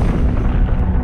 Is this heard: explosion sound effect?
yes